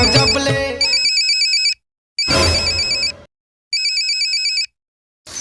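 A mobile phone ringtone plays loudly at home, heard as a melodic electronic tone repeating in bursts with brief silent gaps between them.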